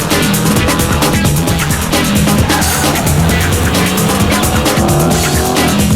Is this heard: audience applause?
no